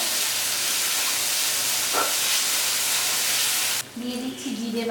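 Chopped onion with garlic and green chilli paste frying in a pan, a loud, continuous hiss that suddenly drops near the end as a voice starts speaking.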